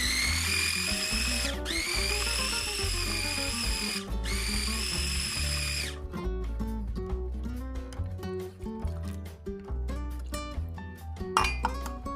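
A small food processor grinds shrimp with water and egg white in loud, high-pitched whirring bursts that stop and restart, followed by rattling, clinking blade and bowl sounds at close range.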